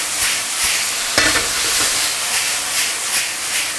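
Chicken breast stir-fried in a hot wok with chopped shallots and blanched, diced fresh shiitake mushrooms: a steady close sizzle and hiss, broken by a few scraping stirs of the spatula, with no voices.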